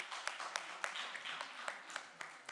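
Applause welcoming a new member at a Korean church young adults' Sunday service: a room of people clapping at a steady moderate level, with sharper individual claps popping out above the wash.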